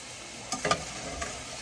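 Shredded hashbrowns fry in a pan with a soft, continuous sizzle, broken by a few brief scraping stir strokes near the middle, close and fairly quiet, with no voices.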